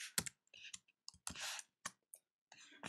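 Command-line text typed on a Mac computer keyboard, heard as short, close clusters of crisp key clicks with brief pauses between them.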